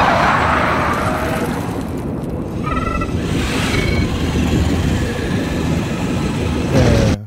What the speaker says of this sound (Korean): 로봇들이 이제 막 달리기 시작을 합니다.